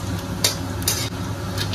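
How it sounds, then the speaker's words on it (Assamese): Whole cumin seeds frying in hot oil with bay leaves, a dense continuous sizzle with a few brief crackling pops, fairly close and with no speech. "এই 1 চামুচমান গোটা জিৰা দিছোঁ ধুনীয়াকৈ ভাজিম"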